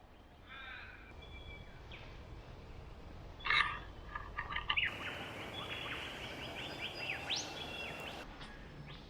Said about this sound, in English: he will do those sort of calls to say, this is my area, I've got a nest here, stay out of it.